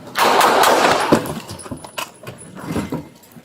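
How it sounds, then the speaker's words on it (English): Rapid burst of gunshots fired during a tense police confrontation with a suspect, loud and close, the cracks bunching densely at first and then thinning into scattered, more separated shots. "shots fired"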